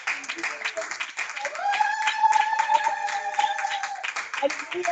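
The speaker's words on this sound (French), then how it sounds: "Applaudissons pour la présence." Congregation clapping during a francophone church Sabbath gathering in Paris, a sustained mass of rapid hand claps heard alongside a held sung or shouted voice and other voices in the room.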